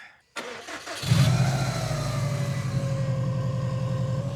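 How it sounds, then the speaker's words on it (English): A Subaru WRX STI with a small oil leak cranks briefly, fires and settles into a steady, rumbling idle, close and loud with no voices. "Start her up."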